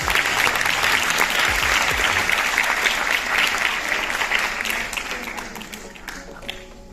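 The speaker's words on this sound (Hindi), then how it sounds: "एक बार जोरदार तालियां" A large audience claps loudly and steadily at a formal Delhi Police Week women's empowerment event, a dense wash of applause that gradually thins and fades toward the end.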